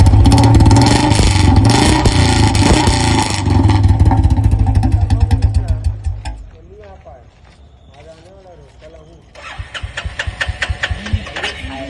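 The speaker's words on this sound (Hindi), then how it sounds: "आज अपने पास क्लासिक 350, गोआन 350 और यामाहा की एंटाइसर तीनों का साउंड कंपैरिजन करेंगे" Three motorcycles, a Royal Enfield Classic 350, a Goan 350 and a Yamaha Enticer, rev loudly up close with heavy low engine rumble for several seconds, then drop to a quieter idle while people talk nearby, before revving rises again.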